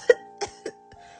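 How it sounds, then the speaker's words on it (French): A tiny short exclamation followed by a harsh, atrocious cough in several rough bursts, close up and fading over about a second, with no other sound. "un minuscule « Ah !» s'échappe, suivi d'une toux atroce"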